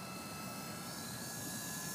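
A Double Horse 9116 RC helicopter flies outdoors in windy conditions, its motor and rotors giving a faint, steady whirring drone with no pauses.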